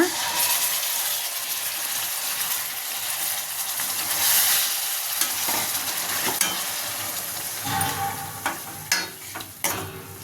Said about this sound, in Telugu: ఇప్పుడు ఇందులో మ్యాగ్నేట్ చేసి పెట్టుకున్న చికెన్ వేసేస్తున్నా